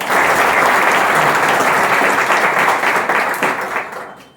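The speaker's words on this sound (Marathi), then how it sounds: "जोरदार टाळ्या" An audience claps loudly and continuously, a dense wash of applause that holds steady before fading out near the end.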